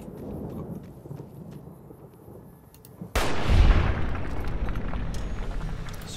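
Gunfire in the video game Fallout New Vegas booms out in a loud, sudden blast that rolls on with a long rumbling tail after a quieter stretch of game ambience.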